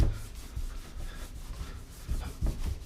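A kitchen cabinet surface scrubbed to lift grease and grime, a close, repetitive rubbing and scouring in uneven back-and-forth strokes with a few heavier pushes, no talking.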